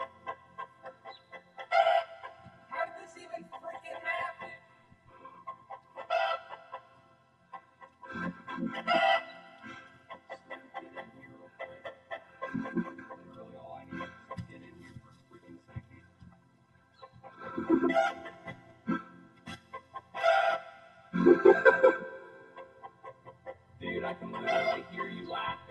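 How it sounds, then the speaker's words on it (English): A rooster crows and clucks in repeated bursts with quiet gaps between them, fairly soft and alone. "So afraid of the rooster."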